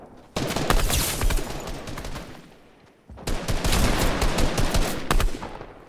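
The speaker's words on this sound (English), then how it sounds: "Someone shooting us." Rapid video game gunfire aimed at the player, two sustained loud bursts of automatic shots separated by a brief lull, close and dense.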